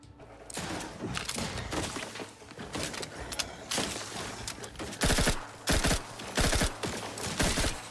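Rapid SMG fire in a sci-fi RPG shooter crackles in several sharp, loud bursts that grow denser toward the end, mixed with thuds and impacts, with no voices over it.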